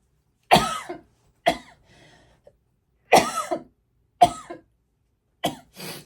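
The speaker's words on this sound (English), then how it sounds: "it's definitely not my intention to be coughing right now" A person coughs in short bursts, five or six harsh coughs in separate clusters with quiet gaps between, close to the microphone and with no talk.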